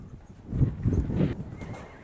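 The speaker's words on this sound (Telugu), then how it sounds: "అది గుర్రం, అది గుర్రం పిల్ల." A horse, a mare standing with her foal in a desert setting in Kuwait, gives a low rolling whinny lasting about two seconds, moderately close with no talk.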